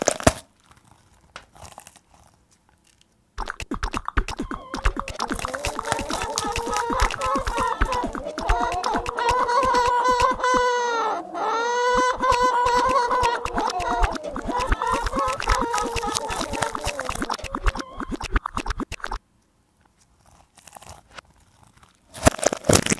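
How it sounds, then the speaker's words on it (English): A sequence of crunchy, tearing and crinkling samples plays forward and then in reverse, producing a mirror-symmetric pattern of bursts that peaks in the middle, loud and continuous between short silences at each end. "every file will be having just one palindrome, one forward, one backward"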